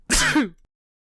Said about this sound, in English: Hold on, I was about to sneeze.